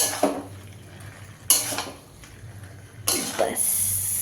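Fried chicken is mixed in a pan, with a few sharp metal scrapes and clanks of a utensil against the pan at irregular intervals over a soft background hum.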